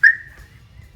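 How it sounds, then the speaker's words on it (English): A Polaris Slingshot alarm system gives a single sharp, high whistling chirp that fades quickly over a faint low background hum, with no talking. "That'll fire the alarm, giving the flashing lights all around the motorcycle."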